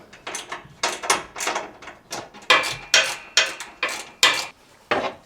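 Hand wrench working loose the 13 mm bolts on a bracket holding the rubber exhaust hanger of a 2025 Rebel, heard as a series of close, crisp ratcheting clicks in irregular bursts, with no talking.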